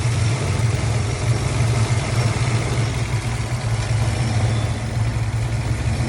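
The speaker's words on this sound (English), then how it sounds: "see how low the car idles down on its own" A car engine idles low and steady with its idle air control unplugged, a continuous close mechanical drone with a slight uneven pulse and no talk over it.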